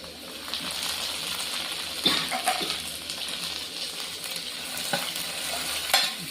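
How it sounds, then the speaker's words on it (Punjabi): Chopped onion with green tomato frying in a pan for a paneer Maggi masala, a steady close sizzle under repeated scraping stirs, with a few sharper clinks of the spoon against the pan. "ਲੋ ਜੀ ਪਿਆਜ਼ ਆਪਣਾ ਚੰਗੀ ਤਰ੍ਹਾਂ ਭੁੱਜ ਚੁੱਕਾ ਜੀ ਤੇ ਹੁਣ ਆਪਾਂ ਇਹਦੇ ਵਿੱਚ ਐਡ ਕਰਾਂਗੇ ਜੀ ਹਰਾ ਟਮਾਟਰ"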